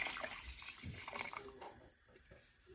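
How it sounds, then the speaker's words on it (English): A cup of water poured into a pot of boiling menudo, a steady close pour and splash lasting a couple of seconds and then easing into quieter bubbling and trickling. "I'm just going to put a whole cup full of water in there."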